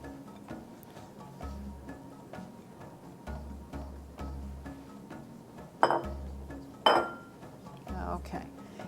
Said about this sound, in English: we'll just mix this a little bit.